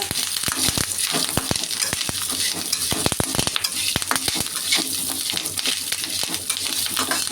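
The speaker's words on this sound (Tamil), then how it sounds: "புளி ஒரு பட்டை போட்டு எல்லாத்தையும் லேசாக வதக்கிங்க." Pirandai stems sautéed with curry leaves and tamarind in a pan for thogayal, a constant sizzle punctuated by frequent sharp clicks and scrapes of a spatula stirring against the metal.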